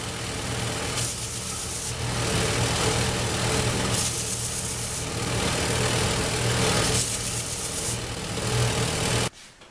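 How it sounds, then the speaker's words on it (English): A belt sander smooths pieces of PVC pipe with a loud, steady whir, and the grinding swells in repeated passes as the plastic is pressed to the belt before the motor cuts off at the end. "so I'm going to sand that smooth on the belt sander."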